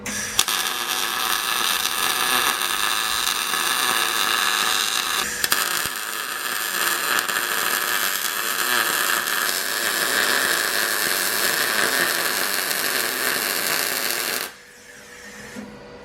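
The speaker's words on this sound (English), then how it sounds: "Now I'm going to start by welding down these flat pieces." Welding steel reinforcement plates onto a subframe for a Nissan 240SX S13 makes a continuous close crackling buzz that runs for about fourteen seconds, then cuts off abruptly to quieter background.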